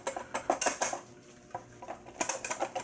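A whisk clatters rhythmically against a bowl of cream in quick bursts of metallic scraping and tapping, close and moderately loud, with a brief pause midway.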